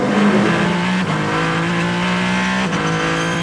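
Onboard engine note of the Kessel Racing Ferrari at the 24 Hours of Le Mans 2023, a steady loud high-revving drone with brief dips as gears shift, close and continuous.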